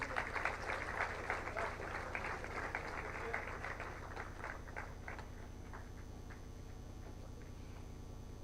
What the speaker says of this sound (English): Kindly join me in welcoming the awardees with a warm round of applause.